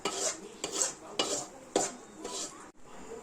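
A spoon scrapes and stirs spiced chivda around a pan in a steady rhythm of about five strokes, each with a bright scraping rasp and light clinks of metal, close and fairly quiet.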